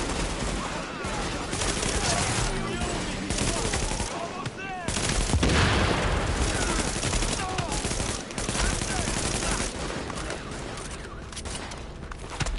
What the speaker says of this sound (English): I don't even focus on headshots no more. I just shoot them anywhere, bro.